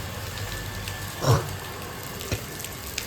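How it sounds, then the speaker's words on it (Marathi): Steady rain keeps falling after an all-night downpour, a continuous soft hiss with a few faint drips and knocks, no voices. "पाऊस तर रात्री पण चालू आहे अजून पण चालूच आहे बघा"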